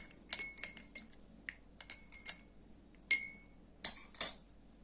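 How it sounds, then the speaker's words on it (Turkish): A spoon stirs lemon juice into tea in a glass, ringing out a quick series of bright clinks and taps against the glass in uneven bursts, close and clear. "2 yemek kaşığı kadar da limon suyumu ekledikten sonra iki malzemeyi iyice karıştırıyorum"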